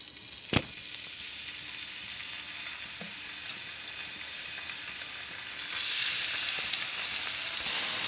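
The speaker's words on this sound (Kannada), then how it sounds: "ಇತ್ತೆ ನಮ್ಮ ಕಾವಲಿ ದಿಕ್ಕ ಒಂದು ಎಣ್ಣೆ ಪಾಡ್ಗ ಫ್ರೈ ಮನ್ಪರೆ ಮತ್ತು ಮೆಲ್ಲ ಮೀನು ಪಾಡ್ಗ" Murumeen fish frying in oil in a pan, giving a steady, close, bright sizzle with a soft tap near the start and a louder, crackling surge toward the end.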